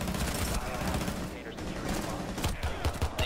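Rapid gunfire in Rainbow Six Siege, dense bursts of shots running throughout with a cluster of sharp cracks near the end, mixed with game noise and a voice.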